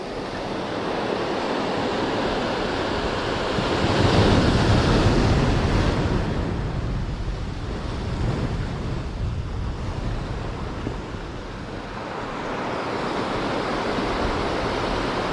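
Sea waves surge and wash onto the shore in a steady broadband roar during a rainy-season fishing trip, swelling louder around the middle and then easing, with wind buffeting the microphone throughout and no voices.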